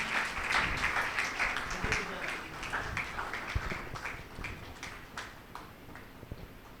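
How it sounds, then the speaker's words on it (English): Audience applause for graduates at an architecture college convocation, a fairly faint, loose spread of clapping with a few distinct nearer claps that thins out gradually. "We please request everyone to give a round of applause to all the graduates."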